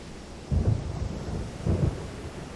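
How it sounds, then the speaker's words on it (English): A thunderstorm at sea in Silent Hunter 3, aboard a U-boat in the Bay of Biscay: two deep, rolling thunder rumbles about a second apart over a steady hiss of rain and wind. "we are back inside a truly terrible storm"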